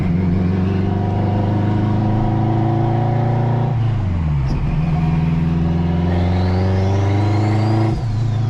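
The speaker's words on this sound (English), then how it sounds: "you can hear those turbos just build that boost" A turbocharged, straight-piped 800 hp AWD 2002 Acura RSX Type-S roars loudly and close as it accelerates through the gears, its engine tone rising and dropping at shifts while a high turbo whine climbs as boost builds.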